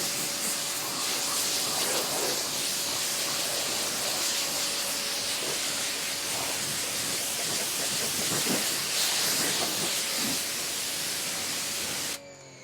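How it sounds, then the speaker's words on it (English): A Giraffe Tools electric pressure washer runs steadily with a continuous broadband hiss and spray noise and a faint motor hum beneath it. The sound stays loud and even for about twelve seconds, then cuts off abruptly at the end. "The motor's a little loud"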